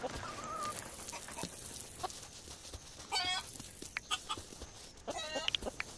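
Chickens on a farm in the video game Dinkum cluck in short bursts at close range, with a couple of distinct clucking calls over a soft ambient background; no speech.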